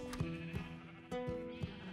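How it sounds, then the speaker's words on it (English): Several short blocky sheep bleats from a flock in the video game Minecraft, coming in quick succession, fairly loud and close with no talking over them. "our silly little field of sheep"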